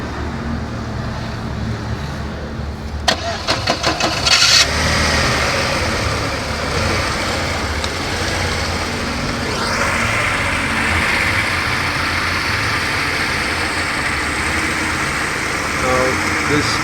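A VW Passat B5 engine cranks with a brief rattling burst, then settles into a steady, fairly loud idle rumble, while people talk.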